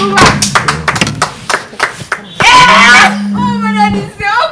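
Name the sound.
audience clapping at birthday party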